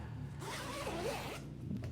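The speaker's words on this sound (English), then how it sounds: "We're going to unzip this zipper now." A zipper on a garment lying face down on a table is pulled open in one steady, continuous rasp, close and fairly loud, with no talking.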